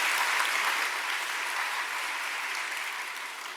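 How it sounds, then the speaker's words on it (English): Audience at a charity breakfast event giving a big round of applause, a thick continuous roar of clapping hands that tapers slightly toward the end. "Let's start off with a big round of applause for this beautiful event"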